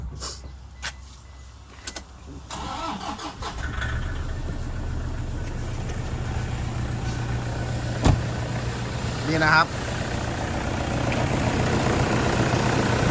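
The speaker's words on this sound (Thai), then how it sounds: "เดี๋ยวฟังเสียงเครื่องยนต์นะครับ เดี๋ยวผมจะสตาร์ท" A Toyota Vigo 2.5 pickup truck engine cranks and catches, then settles into a steady low idle, with someone talking briefly and a few clicks nearby.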